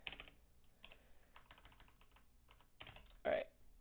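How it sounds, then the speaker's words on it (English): Keys clack on a computer keyboard in uneven bursts of quick taps, close and fairly quiet, with one louder clatter near the end. "I'm really bad at typing today."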